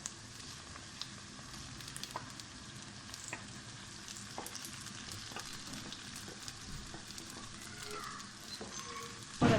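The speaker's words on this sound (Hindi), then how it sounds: "अब भिंडियाँ जो हैं हम इनमें डालेंगे।" Okra sizzles and fries with lightly browned onions in a pan, a steady close crackle with scattered pops and stirring scrapes throughout, no talking.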